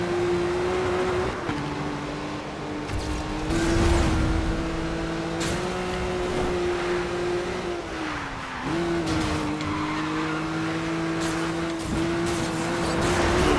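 A racing car in Need for Speed Rivals roars past with a steady engine drone, shifts pitch around mid-pass, and has a faint tire squeal, loud and close throughout with no talking.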